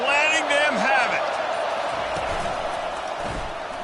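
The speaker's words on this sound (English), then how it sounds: "this crowd is letting them have it" A college football stadium crowd roars as a dense, steady wall of distant noise while a commentator talks over it, the din holding loud and level with occasional muffled thumps.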